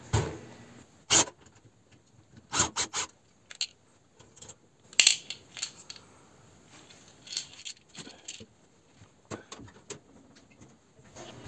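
Quiet, scattered metallic clicks and scrapes from screws being turned out of a convector heater's foot with a screwdriver, sharp irregular ticks separated by near silence, no voices.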